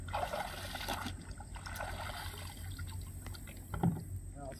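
A muddy grapnel anchor being rinsed off in a lake beside a kayak, with soft trickling and splashing water under steady background noise and a person talking.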